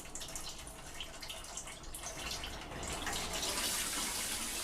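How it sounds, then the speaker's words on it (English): A water tap runs with a soft, hissing splash of flowing water, shifting in intensity and growing a little stronger toward the end, faint and alone. "the entity began manipulating the water tap, turning it on and off at varying speeds"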